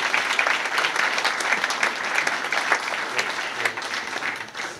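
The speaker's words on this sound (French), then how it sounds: "je vous remercie d'applaudir bien fort Guillaume Couillard, s'il vous plaît" Audience clapping loudly at a conference talk, a dense sustained round of applause with individual claps audible, fading slightly at the close.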